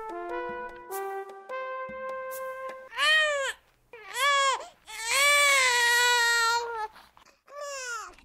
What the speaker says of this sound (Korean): 난 큰 소리로 울며 세상에 나왔대요.